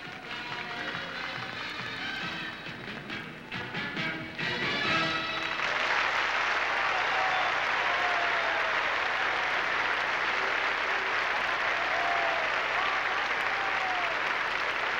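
Arena audience applause at a 1980 USSR Cup women's gymnastics competition in Moscow's Luzhniki Sports Palace, a broad, sustained roar of clapping swelling after about five seconds and holding loud and continuous.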